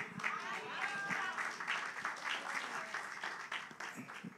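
A church congregation applauding during a Spanish-language sermon, a fairly faint, steady patter of clapping with some voices underneath.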